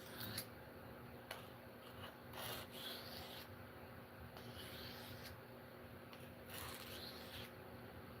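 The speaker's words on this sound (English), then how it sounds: "I usually like to use the side of the sharpening stone," A blade is drawn along the side of a sharpening stone in a soft, quiet rasping rub. The strokes come in short, repeated passes that are close but faint.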